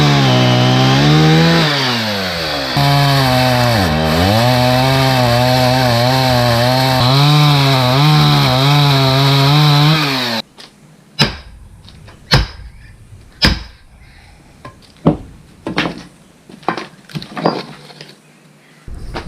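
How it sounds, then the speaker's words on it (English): A loud chainsaw roars and revs as it bites through a relatively dry log for about ten seconds, followed by a series of sharp knocks and thumps. "I'm gonna use a chainsaw and cut it right about here."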